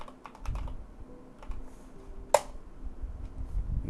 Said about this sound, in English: so you can type op your username